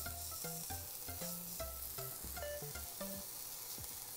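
Pork-wrapped green peppers stuffed with cheese fry in a pan with a steady, quiet sizzle throughout, broken by small scattered pops and the light clatter of utensils against the pan.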